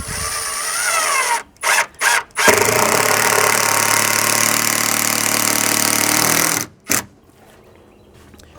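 A power drill drives a screw into a wooden deck support while installing a BBQ, three short whirring bursts followed by one long, steady run of the motor, then a final brief burst, loud and close.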